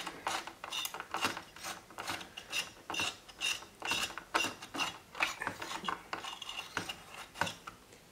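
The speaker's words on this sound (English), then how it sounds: "Now you will remove the screws in a diagonal pattern" Rapid ratcheting clicks from a screwdriver loosening the case screws on a Dell Optiplex 990 SFF computer, repeating in quick uneven bursts, close and fairly loud.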